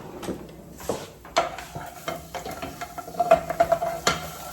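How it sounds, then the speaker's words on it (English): Garlic sautés in a pan for Caprese portobello mushrooms, a quiet sizzle beneath a run of light spoon scrapes and metallic taps against the pan, close and steady with no voices. "And we're gonna saute that."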